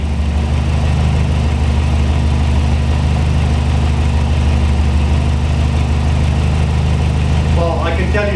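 A Lotus 7 Birkin kit car engine idling close by, a steady low rumble with an even pulsing throb, broken near the end by a few light clicks.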